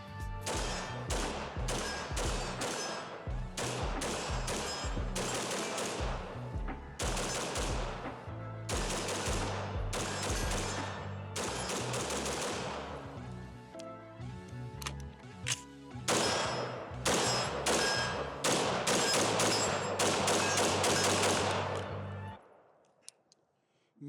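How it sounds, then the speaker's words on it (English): Rapid unsuppressed rifle fire from a 13.8-inch pin-and-weld AR-style rifle, loud close strings of shots in dense bursts with brief pauses between magazines, ending in quiet. "So let's keep on running mags through this mode."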